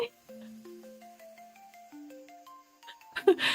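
A phone ringtone plays a bright melodic sequence of clear electronic tones, stepping through several pitches before breaking off into a few brief scuffling noises at the end.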